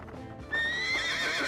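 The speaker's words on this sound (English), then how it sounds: "a state-of-the-art Concord stage drawn by 6 horses" A six-horse team pulling a Concord stagecoach whinnies loudly and close, a long neigh rising after a quieter stretch of hoof and harness noise.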